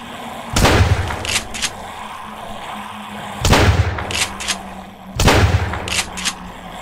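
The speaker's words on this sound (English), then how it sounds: "let's go with the shotgun" Three heavy, booming shotgun blasts fired in Deadly Flare, spaced a few seconds apart with echoing tails over constant game background noise.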